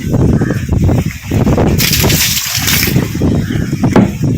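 Water gushes and splashes loudly while a Sintex plastic water tank is being cleaned, a steady rushing wash with a brighter burst midway, continuing throughout without talk.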